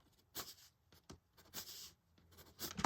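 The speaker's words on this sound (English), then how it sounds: "But you could also do hatching and" Number 2 pencil hatching on paper in several short bursts of strokes, close and fairly quiet, with pauses between.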